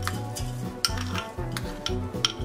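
Chopped fresh beetroot being tipped into a vessel, heard as a series of rhythmic scrapes and knocks of a utensil against metal, close and moderately quiet, with no voices.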